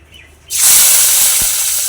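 Garlic dropped into hot oil in a wok (kadai) gives a sudden loud, steady hissing sizzle that starts partway through and holds to the end, with no talking.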